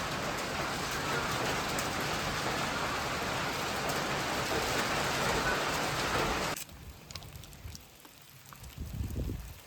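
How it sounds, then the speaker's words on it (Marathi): Steady rain falls outside, a dense loud hiss of drops on surfaces for most of the stretch, then it cuts off abruptly to quieter drips and faint background noise near the end. "बाहेर पावसाचं बरंच वातावरण झालंय. जोरात पाऊस येणार."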